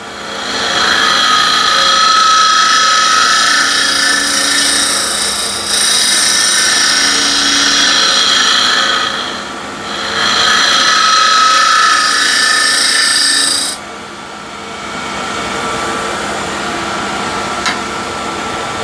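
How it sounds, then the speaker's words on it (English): A wood lathe spins a bowl while a scraper shears along the rim during hollowing, making a loud, sustained hissing scrape that fades in and out in long passes before dropping to a quieter whir. "Now I'm basically shear scraping at this point here, the rim."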